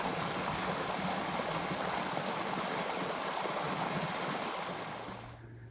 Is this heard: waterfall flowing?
yes